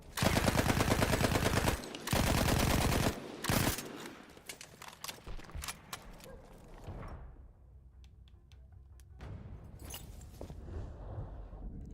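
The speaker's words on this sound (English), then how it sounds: "the Ruby Rollies 1918 carbine was technically one of the world's first assault rifles" A Ribeyrolles 1918 carbine fires in a video game, with rapid bursts of loud, close automatic gunfire, then scattered single shots and clatter fading into quieter background action.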